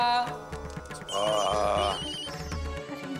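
A melodic phone ringtone plays in a loop, moderately loud, with music-like tones and some background murmur.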